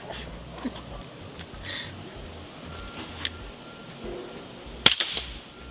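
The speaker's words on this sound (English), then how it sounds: "Get your gun out and shoot him now." Airgun pistol fired once: a single sharp, close crack near the end, preceded by faint clicks and handling noise against a quiet background.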